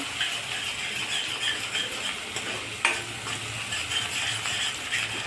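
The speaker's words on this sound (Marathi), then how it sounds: "पेस्ट सुद्धा छान परतून घेणे तेल सुटेपर्यंत." Masala paste sautéing in oil in a pan for sprouted moong misal gives a continuous close sizzle with occasional stirring scrapes and one sharper clack, no talking.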